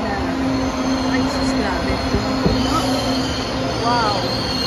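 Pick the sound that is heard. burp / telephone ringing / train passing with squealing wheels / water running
train passing with squealing wheels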